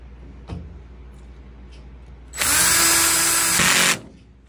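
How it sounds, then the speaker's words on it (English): DeWalt drill driving a screw into the top of a DIY 48 volt battery box, a short loud whirring burst of just over a second after a few quiet handling knocks. "I simply use a DeWalt drill"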